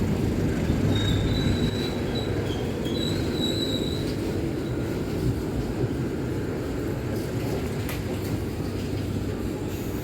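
The Gumarang passenger train runs along the rails from Jakarta to Semarang, with a steady loud rumble of wheels and wagons and a few thin high wheel squeals riding on top, continuous and close.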